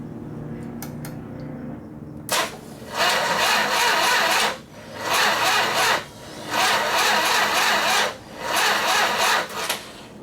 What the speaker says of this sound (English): Man, that is sour for the starter motor.